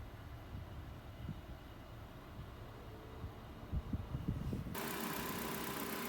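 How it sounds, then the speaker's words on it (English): A Nissan Juke's engine idles with a low, quiet hum, then the air conditioning compressor kicks in with a sudden, louder, steady broadband whoosh that continues to the end; no one speaks. "You'll hear the compressor kick in."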